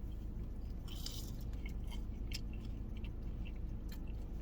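Crispy fried fries from a chicken wing shop being bitten and chewed up close, soft crunching under a steady low background hum.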